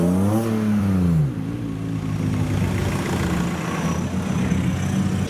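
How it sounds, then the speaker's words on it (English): A car engine revs up briefly, its pitch climbing, then drops back to a low steady rumble. "Sounds like it's got quite a modern engine in it."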